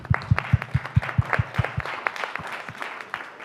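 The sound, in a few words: audience round of applause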